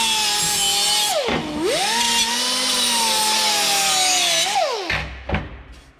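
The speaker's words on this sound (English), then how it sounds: "Another thing on aluminum, you're cutting it with a bandsaw." A bandsaw cutting aluminum downpipe, a loud sustained whine whose pitch dips and bends as the blade bites into the metal, broken by two brief clunks before it winds down near the end, with no voices.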